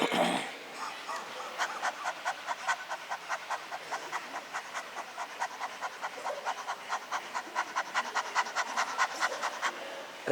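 Participants at a yoga camp doing dog-breath exercise, voices imitating a dog's quick panting: fast, even, rhythmic breaths repeating throughout, moderately loud with a faint background.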